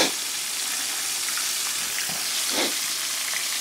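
Chicken fried pork steaks fry in a pan, a steady, close hiss of sizzling oil with small pops and bubbling swells, continuous and fairly loud, with no one speaking.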